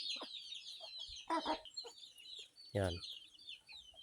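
Chickens and chicks cluck and peck while feeding on termites broken out of a nest, soft close clucks with a louder call near the end, and a person speaks briefly over them.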